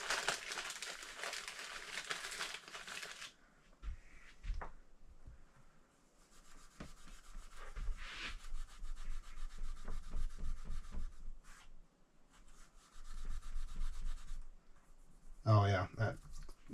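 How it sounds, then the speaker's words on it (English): Steel wool scrubs back and forth over the wooden fretboard of a replica electric guitar in close, raspy strokes with brief pauses between passes, and someone talks in between. "I may hit the fretboard just with some steel wool."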